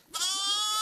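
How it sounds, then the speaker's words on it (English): Sheep bleating once, a close, loud, wavering cry held for most of a second, heard alone. "A sheep? You've made a sheep?"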